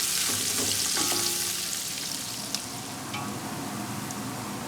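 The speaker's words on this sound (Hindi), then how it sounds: "अब हम इसमें प्याज ऐड कर देते हैं, और प्याज ऐड करने के बाद इसको ब्राउन करेंगे हम प्याज" Onions fry in hot ghee for a beef pulao, a loud continuous sizzle and crackle with a few clinks of a spoon stirring the pan, no voices.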